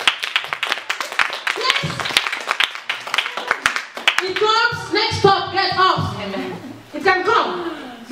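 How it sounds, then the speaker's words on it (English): A church congregation claps rapidly and loudly for a few seconds, then the clapping gives way to people talking and cheering voices. "Give a clap to the Lord."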